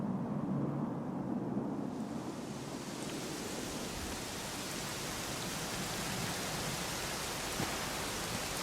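Steady rainfall with a low thunder rumble in a Dragon Quest XI cutscene, a broad continuous hiss that swells in after a quieter start and holds evenly, with no voices.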